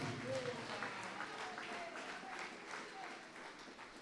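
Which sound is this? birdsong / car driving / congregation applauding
congregation applauding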